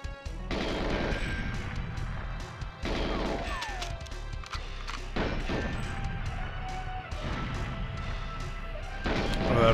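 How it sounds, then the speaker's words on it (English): Exploding barrels with poison labels in the N64 game GoldenEye 007, heard as repeated loud blasts and crashes with gunfire-like bursts over steady game music and ambience, continuing across the whole stretch. "A bunch of exploding barrels."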